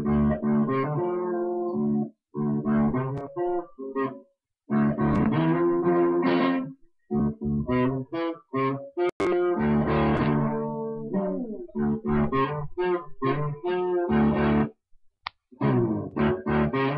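Electric guitar with a light, gritty overdrive playing chords and short riffs, with brief pauses between phrases.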